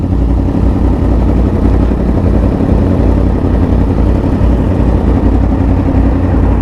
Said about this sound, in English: my overall over this exhaust, it is loud as heck